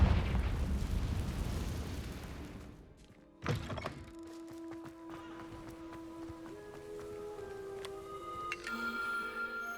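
A Confringo blasting curse in Hogwarts Legacy bursts with a sudden loud thunk and boom, preceded by a rushing, roaring wash of magical energy and followed by lingering tonal game ambience.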